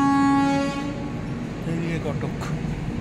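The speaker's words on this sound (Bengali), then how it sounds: "ট্রেন ছাড়ার সিগন্যাল দিয়ে দিয়েছে" A train horn at Cuttack in Odisha signals departure: one long, loud blast opens, then fades into a low rolling rumble of the carriages.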